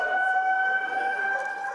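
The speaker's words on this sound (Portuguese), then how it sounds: "Esse é o som de alerta da sirene que foi instalada em Franco da Rocha." A civil defense alert siren installed in Franco da Rocha rings out as a steady two-tone electronic wail, sustained and moderately distant, with no voices over it.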